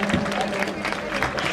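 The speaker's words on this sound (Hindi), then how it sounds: "एक बार तालियां आप लोग बजाते रहे जी" Audience clapping at a small welcome ceremony during a political gathering, a continuous patter of hands from a crowd, mixed with background voices for a second or two.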